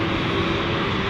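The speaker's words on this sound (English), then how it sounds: "There's two planes ready to go. One's the British Airways and one's the KLM." Steady, loud jet engine roar from British Airways and KLM airliners waiting on the ground at an airport on a bright day, a continuous broadband rumble heard close by with no talking.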